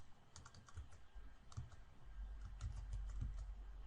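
Keys clatter on a computer keyboard as a file-type list is typed into a web form builder, a quick run of close, fairly quiet clicks over a low background rumble.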